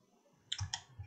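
Two crisp computer mouse clicks, close and fairly quiet, about a fifth of a second apart, made while drawing a cookie cutter design in CAD software.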